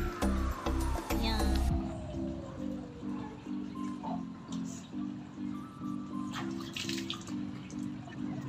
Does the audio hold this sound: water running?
yes